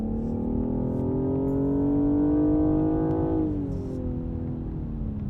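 Synthesized engine sound of a BMW 8 Series grand tourer, piped through Harman Kardon speakers, rises as a smooth harmonic drone, then eases off and falls in pitch as the car settles, heard clearly inside the cabin.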